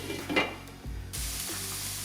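Three cloves of garlic cooking slowly in a pan over a low flame, giving a soft steady sizzle with a few scrapes and stirring knocks, close and alone without talk.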